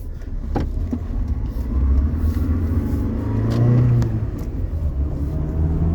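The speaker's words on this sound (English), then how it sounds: "Runs good, drives good, shifts good, goes right down the road." A used Toyota Tacoma pickup truck drives along the road, its engine rumbling low and swelling twice as it accelerates, heard steadily from inside or nearby with no talking.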